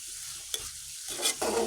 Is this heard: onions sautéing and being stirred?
yes